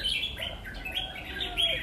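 A red-whiskered bulbul sings close by in a continuous run of bright, sharp chirps and whistled phrases, fairly loud, with a low hum underneath.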